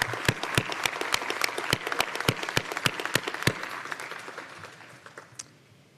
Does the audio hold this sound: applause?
yes